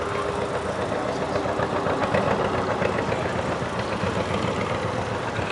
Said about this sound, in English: there comes the John Deere